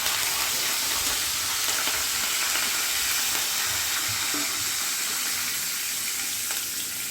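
Curry leaves hitting hot refined oil, a loud, dense, continuous sizzle and crackle holding steady close up throughout, no voices.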